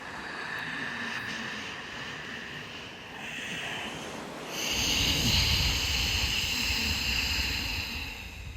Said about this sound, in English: the Ujjayi breath, which is the ocean breath